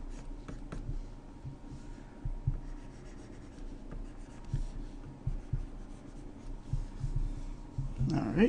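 A pen or pencil draws trim onto a medieval armour illustration, making soft, close scratching and rubbing strokes in short irregular bursts with small taps between them.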